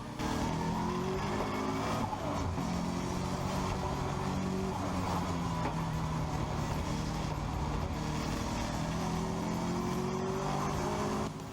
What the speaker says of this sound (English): let's just sit and listen to Adam's lap.